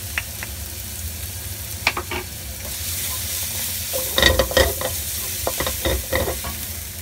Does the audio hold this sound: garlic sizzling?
yes